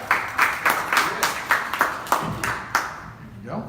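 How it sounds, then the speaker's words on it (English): Sparse audience applause for a guest called to the stage: about nine distinct, evenly spaced loud claps, nearby and alone, fading at the end. "everyone, big round of applause"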